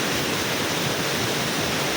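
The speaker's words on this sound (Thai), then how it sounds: "บนเขาภูตะแบงนะฮะ น้ำตกยอดครับ" Summit waterfall on Phu Tabaeng mountain, a steady dense roar of falling water filling the whole clip, close and unbroken with no voices.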